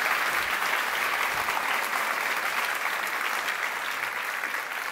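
A full audience claps steadily for a contestant at a national science-talk final, a dense, even wash of applause that stays loud throughout with no pauses.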